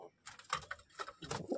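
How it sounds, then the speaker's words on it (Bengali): A domestic pigeon in a home loft coos nearby in a few short, throaty bursts separated by brief pauses, fairly quiet. "দেখো পায়রা,"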